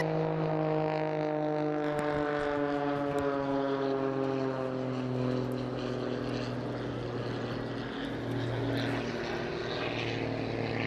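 A Pitts S-2S aerobatic biplane flies a display, its propeller engine droning loud and steady, the tone sliding gradually lower as it manoeuvres.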